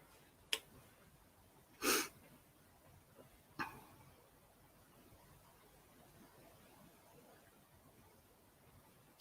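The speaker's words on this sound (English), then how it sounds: "Barks in agreement." A dog barks three times indoors, each bark a short, separate burst a second or two apart, the middle one strongest. Quiet room noise fills the gaps, with no talking.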